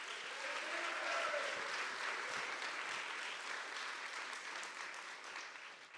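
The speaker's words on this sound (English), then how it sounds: "Let's give Taylor a round of applause." An audience at an athletics awards ceremony gives a warm round of applause, even and sustained, tapering off gently near the end.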